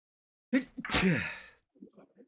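One sharp, close sneeze bursts out after a moment of silence, followed by a faint breath or murmur, with someone nearby during a tabletop role-playing session.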